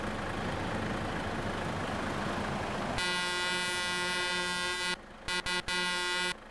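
A Renault Range T truck's horn in Euro Truck Simulator 2 blares loud and sustained over a rumbling engine, cutting out briefly a few times near the end.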